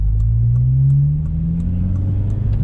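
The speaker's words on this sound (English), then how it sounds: "that is the exhaust you'll be hearing" A Honda Civic Si with a Megan Racing header and DC Sports axleback exhaust idles close by, a loud, steady low drone with a slight rise in pitch before settling again.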